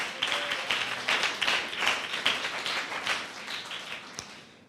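A church congregation claps in a steady rhythm, about two claps per second, in a moderately reverberant hall, with the claps blending into a soft, even patter.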